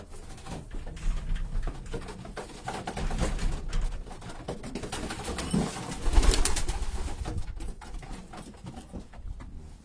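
Racing pigeons coo softly nearby in a loft, low throaty calls repeating over a rustling background with occasional wing flutters and shuffling.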